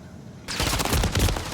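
Rapid automatic gunfire from the Call of Duty: Modern Warfare III video game during ranked multiplayer, a loud close burst of shots that starts abruptly and continues steadily to the end.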